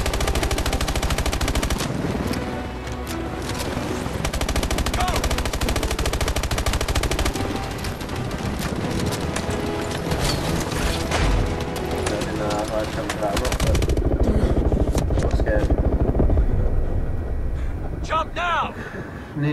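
Heavy machine-gun fire rakes an enemy helicopter in the Call of Duty: Advanced Warfare campaign, a dense, loud barrage of rapid shots layered over game music and effects that swells toward the end.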